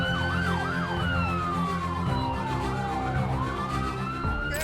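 An ambulance siren wails continuously in repeating up-and-down cycles over steady traffic and engine rumble, fairly close and loud throughout.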